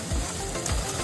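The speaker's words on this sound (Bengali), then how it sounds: "এরপর মশলাগুলো ভাজা পেঁয়াজের মধ্যে ঢেলে দেওয়া হলো এবং ভালোভাবে নাড়াচাড়া করে নেওয়া হলো।" Spices stirred into browned fried onions in a pan while meat is being cooked, giving a steady close sizzle with scraping stirs throughout, no voices.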